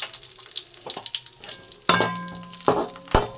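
Cashews and raisins are roasted in a pan for red poha and sago payasam, with bursts of close sizzling and scraping stirs that swell and fade irregularly.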